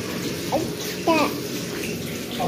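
Hot water runs into a bathtub in a steady splashing stream, with a voice and brief speech-like sounds breaking in over it.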